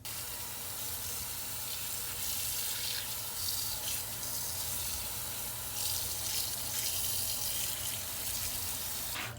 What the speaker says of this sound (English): I'm just gonna rinse it until it runs clear.